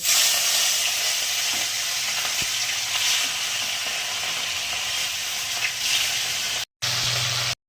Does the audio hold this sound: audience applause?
no